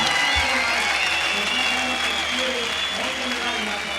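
Crowd applause and cheering at an X Games Barcelona 2013 skateboard vert contest as a skater holds hand plants, steady and loud throughout with a commentator's voice talking over it.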